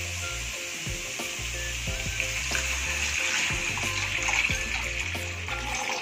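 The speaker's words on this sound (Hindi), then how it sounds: "अभी पानी डाल लेंगे।" Water is poured into a cooking pot with spices for masala oats, giving a continuous splashing, sizzling rush as it hits the hot pan, heard up close with faint clinks and hum underneath.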